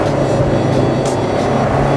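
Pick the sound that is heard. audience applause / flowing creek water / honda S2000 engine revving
honda S2000 engine revving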